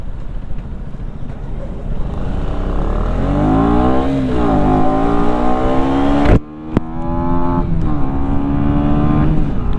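A KTM 125 SMC R supermoto motorcycle screams on the highway, its high-revving engine climbing steadily in pitch, cutting out briefly for a gear shift and then rising again, loud and close with rushing wind.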